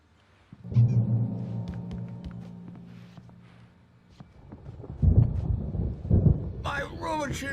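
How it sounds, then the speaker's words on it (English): A thunderstorm builds in the game Alan Wake Remastered: a deep rolling rumble swells and lingers, then heavier gusty bursts of storm noise arrive, with a voice speaking briefly near the end. "There's a storm coming. Oh, what a storm."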